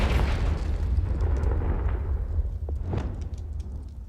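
A Confringo blast spell from Hogwarts Legacy erupts in a deep, rumbling boom that rolls on for several seconds, with sharper crackling bursts flaring near the end.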